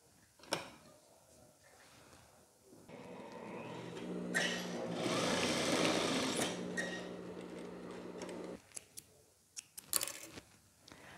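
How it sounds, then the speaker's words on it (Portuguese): A sewing machine runs in one steady burst of a few seconds, stitching elastic onto the sleeve hem of a teddy jacket beside the overlock seam. Quieter clicks and fabric handling come before and after, all close. "vou apenas costurar aqui, ó, o elástico bem rente a barra"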